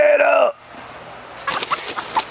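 Chickens give a loud harmonic squawk up close, then after a short pause several softer clucks follow in irregular bursts around a farmyard feeding.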